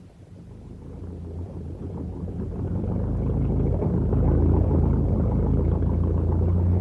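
A boat engine turns over and settles into a steady low rumble, growing louder and fuller over several seconds and continuing alone without voices, in a moored harbour setting before heading out to sea.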